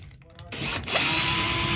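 A power drill whirs as it backs out screws near the lint trap of a Maytag MGDC300XW1 gas dryer, starting faint and rising to a steady close whine, with a brief voice-like sound early on.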